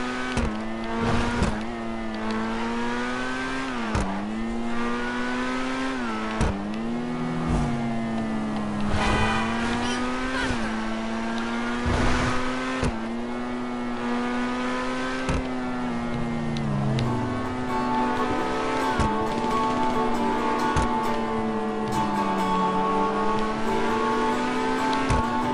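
Supercars race and chase in a video game, their engines droning continuously with rising and falling revs and shifting pitch for the whole stretch, loud and close, with no one talking.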